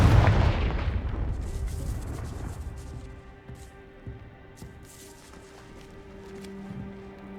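Confringo blasting spell in the Hogwarts Legacy video game: a loud, close blast bursts at the start, then decays into a rolling rumble with scattered debris clatter over a low ambient hum.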